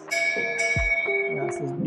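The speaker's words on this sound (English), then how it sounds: "Bell that was used by the sisters in the convent, maybe for different purposes, for breakfast or for prayers and everything." An old convent bell, once rung by the sisters to call them to meals and prayers, gives one clear ringing strike that sustains and fades, with a voice speaking over it.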